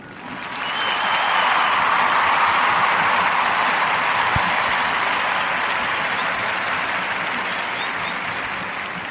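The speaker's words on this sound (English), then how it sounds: "So I gotta clap it up for myself." A crowd claps and cheers for about nine seconds, a dense, steady burst of applause that swells quickly at the start and tapers slightly toward the end.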